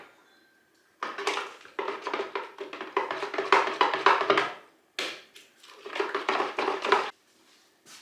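Goat's milk yoghurt and condensed milk are mixed in a bowl, giving rhythmic scraping and clinking bursts. Several bouts are separated by short pauses.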